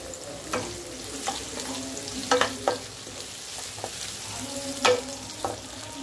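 Onions frying in a pan for fried rice, a steady soft sizzle with occasional louder stirring scrapes and clinks, close and continuous with no talking.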